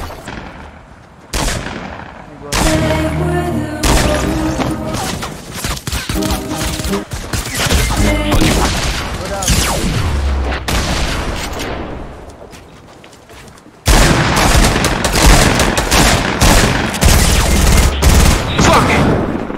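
Dense bursts of gunfire in the video game Fortnite, loud and nearly continuous, with rapid shots, booming blasts and brief gaps, mixed with game sounds and occasional voices.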